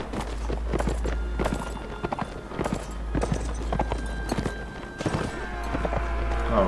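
Horse hooves galloping in the Mount&Blade Warband video game, rapid continuous clip-clop beats with battle noise behind, loud and steady throughout.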